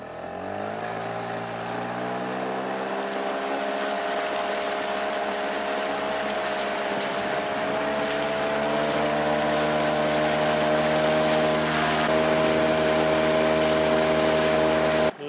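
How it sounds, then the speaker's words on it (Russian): A 5 hp outboard motor on a hunting boat runs steadily downstream, a close, continuous droning hum with a slowly rising pitch and no talk over it. "12 километров под 5-сильным мотором по течению."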